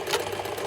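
A sewing machine runs in a short steady burst, stitching in the ditch along a bound edge used as a facing, with a close, even mechanical whir and no talking.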